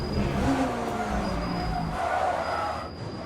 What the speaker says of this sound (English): Another hypercar arrives, making it 3 wide into the braking zone.